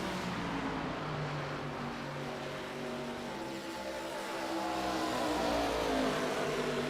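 ARCA series race cars circle at Kansas, close together as they run side by side. Engines drone loudly and continuously, and the pitch slowly shifts as the cars pass.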